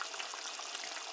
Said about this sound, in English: if you notice now the coconut milk is boiling